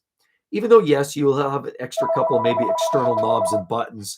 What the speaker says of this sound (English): we've got a phone call coming in here